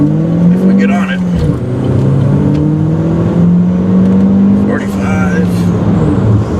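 Car accelerating hard with a missed shift from second to fifth, the engine droning and rising in pitch, with a voice talking over it.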